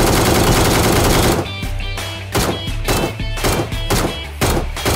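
An ACE32 assault rifle with the Beam Blast skin fires in PUBG Mobile, loud rapid bursts close up: a long sustained stream followed by several short repeated volleys with brief gaps.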